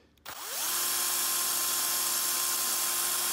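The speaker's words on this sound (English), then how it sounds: "Drill a little bit, pull it out, clear your bit." A small drill bit spins up and bores into a die-cast Hot Wheels toy car, a brief click followed by a steady, loud high-pitched whine that holds for about three seconds, close and alone.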